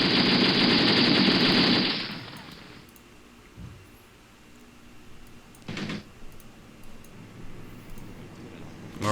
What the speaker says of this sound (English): All of our AT guns should be firing right now.